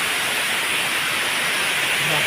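Waterfall at Inungayan Falls in Jiabong, Samar, with loud, continuous rushing water forming a dense, unbroken roar close by.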